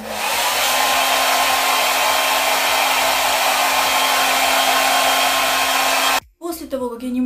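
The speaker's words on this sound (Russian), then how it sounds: "Все расчесали, теперь берем фен." A purple handheld hair dryer blows steadily and loudly up close, a constant whooshing roar that runs for about six seconds before being switched off, followed by brief handling noise.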